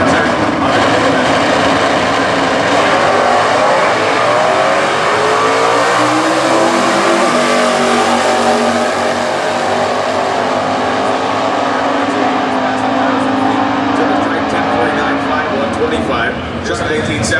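Stock eliminator drag cars, including a 1968 Camaro with a 327 small block, roar side by side at the US Nationals, loud sustained engine howls rising through the run while an announcer talks over them.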